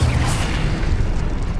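A single Incendio fire spell from Hogwarts Legacy goes off in a loud, rumbling blast with a bright whoosh at the start that quickly fades into a steady low roar.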